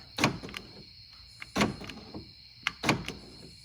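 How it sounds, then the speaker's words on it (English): Four sharp mechanical clunks in a loose rhythm, each a quick thunk of a Toyota Camry power door lock actuator, close by, with faint clicks between them. "Got this plugged in to show you the door lock."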